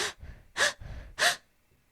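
Voiced imitation of anxious breathing: three sharp, loud gasping inhalations in quick succession with no exhale between them, then quiet.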